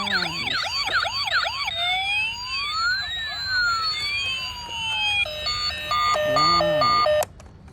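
A toy police Lamborghini sounds its electronic siren, opening with fast warbling whoops, then long slow up-and-down wails, and ending in a steady two-tone beeping pattern. The toy is close and loud throughout.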